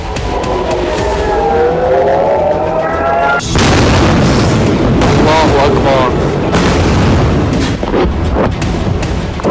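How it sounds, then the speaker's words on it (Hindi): In northern Israel, a rapid series of loud blasts and booms from serial explosions rumbles on, sirens wailing faintly before a sudden burst of dense, continuous explosions. "बेहिसाब बारूद बरसा, सीरियल ब्लास्ट हुए।"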